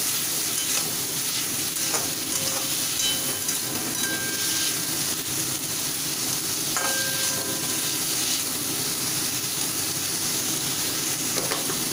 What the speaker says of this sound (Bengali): এবার ভালোভাবে ফ্রাই করে নিতে হবে